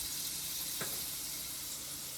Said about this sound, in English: You get a shot of them sizzling there in the pan.